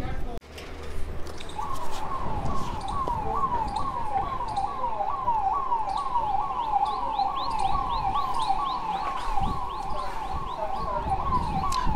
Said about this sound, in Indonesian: Ada polisi sedang melakukan patroli dengan menyalakan sirine.